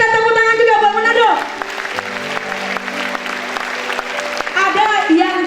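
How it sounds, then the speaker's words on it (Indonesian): A congregation at a youth Christmas revival service claps for the group from Manado, with the applause swelling under sustained, pitched singing or talk from the front. "Kita tepuk tangan juga buat Manado."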